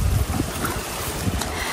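Steady low rumble of a boat moving on open water, with wind buffeting the microphone and a constant wash of water throughout.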